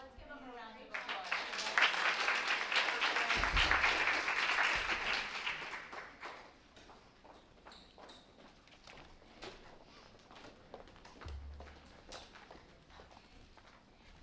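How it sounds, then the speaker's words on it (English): Audience applause at a school board of education meeting, a burst of clapping swelling for several seconds and fading, with scattered footsteps, thumps and people talking in the room. "Let's give him a round of applause."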